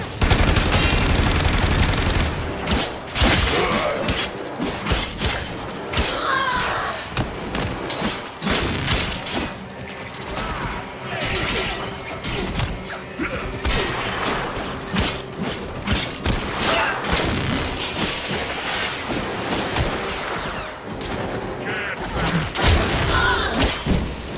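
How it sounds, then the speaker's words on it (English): Gunfire crackles in Warframe, with dense rapid bursts and sharp single shots repeating over about twenty-five seconds amid shattering impacts and booms, loud and close throughout. "Wait for the shots!"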